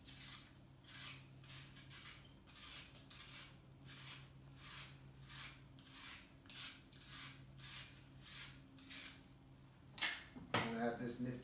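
Apples being peeled for an apple cake (Sharlotka), giving a steady run of soft rhythmic scraping strokes close by, ending with a louder clatter.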